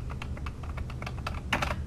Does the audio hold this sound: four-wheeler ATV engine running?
no